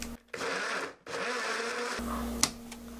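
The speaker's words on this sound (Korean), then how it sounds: "믹스기 넣고요. 갈아줄게요." A blender grinds an orange salad dressing with honey in several short runs, a coarse motorized whir that stops and restarts, ending in a lower hum with a small clack.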